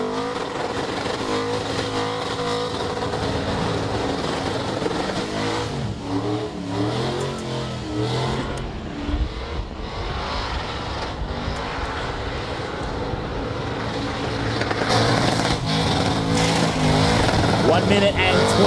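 A Holden HQ Ute does a burnout in an open-class burnout final, its engine revving hard and pumping over continuous roaring tyre noise, loud and sustained, with a commentator talking over the noise.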